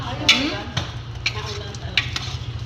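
Potatoes and vegetables are stirred in a pan, giving a few scraping, clattering strokes over a soft steady background, with faint voices nearby.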